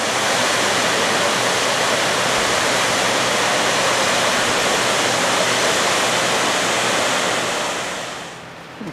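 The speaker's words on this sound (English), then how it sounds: "I'll still be able to hear the water rushing behind us" Steady rushing water spilling from a dam wall, a loud broadband roar that holds constant and alone before fading slightly near the end, heard on a day hike at Mount Edwards.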